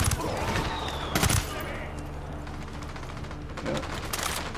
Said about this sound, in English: Firing. Mortars.